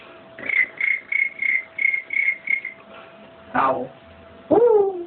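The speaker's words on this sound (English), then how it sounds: "Cricket." A cricket chirps in a steady run of about eight short, even, high pulses, followed by two louder, different calls sweeping downward in pitch.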